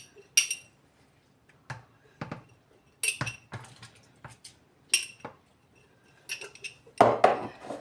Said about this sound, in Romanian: Acum începem și îi punem în borcane.